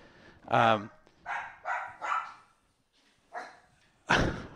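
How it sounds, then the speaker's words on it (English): Several hound dogs bark while hunting inside a studio, giving a series of loud, close barks and yips in short bursts with brief pauses between them. "I got 3 dogs in the studio, and they're hunting something over there."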